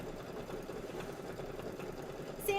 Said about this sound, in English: I'm going to go ahead and hit start and let it do its stitching